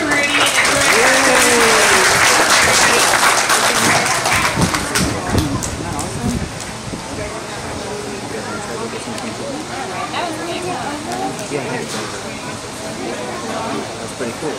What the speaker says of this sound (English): how about a big round of applause for Rudy and everyone?